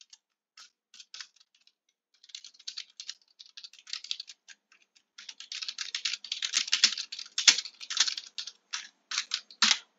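Code is typed on a computer keyboard in irregular bursts of crisp, close key clicks, sparse at first and then quicker and denser, with no talking.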